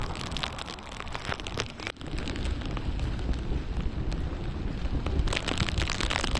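Steady rain falls on a jungle trail among green hills, making a soft, continuous hiss and patter around the listener.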